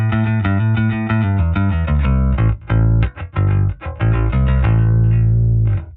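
Electric bass picked hard through a Luminal Booster Ultra pedal, a loud close run of punchy, bright notes with a rounded edge, played alone with brief gaps near the end.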